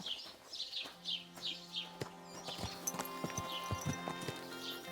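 Horse hooves clip-clopping at a steady walking rhythm in the medieval game Kingdom Come Deliverance II, close and distinct, with birds chirping in the background and no talking.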